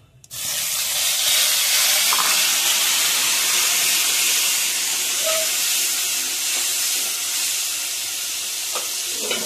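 A spice paste of onion, garlic, ginger, green chilli, pepper, cinnamon and tomato hits a hot pan and breaks into a loud, steady sizzle that starts suddenly and holds close and continuous throughout.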